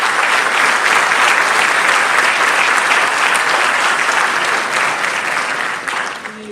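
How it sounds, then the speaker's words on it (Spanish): Conference audience at a provincial gathering in Buenos Aires breaks into loud, sustained applause, dense steady clapping filling the hall throughout and easing slightly at the very end. "un aplauso para ellos"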